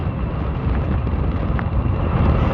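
Steady, loud wind roar buffeting the microphone while riding a SOLEBIKE SR22 retro fat-tire e-bike into a headwind at just over 30 mph, continuous and rumbling with no voices.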